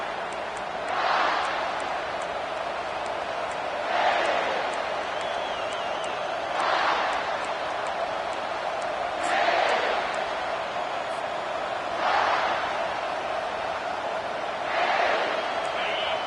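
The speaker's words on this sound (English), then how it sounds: "This crowd bringing an ear-splitting welcome to their visitors." A stadium crowd at a college football game roars through the opening kickoff by the Gamecocks, a steady wall of noise that swells in repeated waves, with a commentator talking over it.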